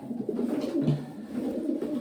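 Pigeons brought in from the Odesa and Mariupol region coo steadily and close by, with soft overlapping throaty calls running through the whole stretch and no talking.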